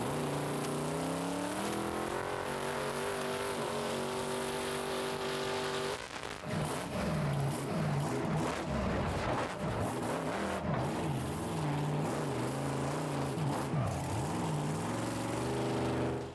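Monster truck with a tall gear, driven by Tom Meents at a Monster Jam maximum backflip attempt, its engine roaring loud and steady, climbing in pitch then revving hard and choppy through the second half, with no talk.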